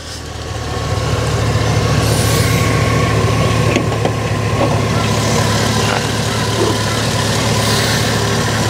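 An LS2 6-litre V8 car engine idles steadily just after start-up, with a loud, constant low rumble and a few faint ticks and clanks from under the open bonnet.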